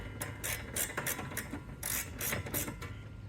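Ratchet wrench with a 10mm socket tightening bolts on a Kawasaki Teryx4 ATV mount, rapid clicking strokes in short bursts, close and fairly loud with no talking.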